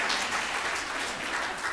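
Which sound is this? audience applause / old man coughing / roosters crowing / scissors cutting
audience applause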